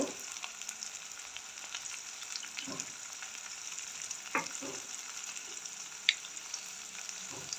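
Mustard seeds crackle and sizzle in hot oil at the start of a Jaffna-style tin fish curry, a steady frying hiss with scattered small pops and a few sharper spits, close by and fairly quiet, no talking.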